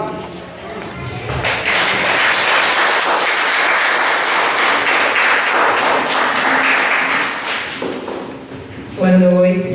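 A church congregation claps and cheers loudly in a dense, sustained burst after a prayer, fading near the end as a voice starts speaking.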